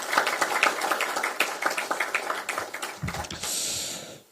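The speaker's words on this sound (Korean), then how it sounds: "큰 박수 한번 보내주시기 바랍니다." Crowd applause for Democratic Party mayoral, county and regional council candidates at a political rally, a dense wash of many hands clapping that carries on steadily, tapers near the end and gives way to a hiss.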